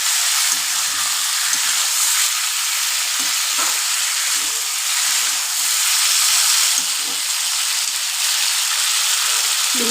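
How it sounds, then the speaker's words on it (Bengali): Potatoes and eggs fry steadily with spices in a pan for a Bengali curry, giving a constant close sizzle and hiss with a few faint clinks of stirring, no one speaking. "এবার এইটা একটু ভাজা হওয়া পর্যন্ত অপেক্ষা করবো, ভেজে এটাকে জল দেবো।"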